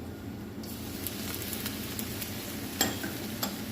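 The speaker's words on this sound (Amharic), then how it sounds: "አንድ ላይ ጠብሰዋለሁ።" Ginger and garlic frying in oil in a pan, a steady close sizzle with a few sharp clicks and scrapes of stirring.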